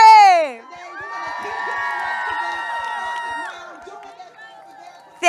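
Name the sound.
crowd applause and cheering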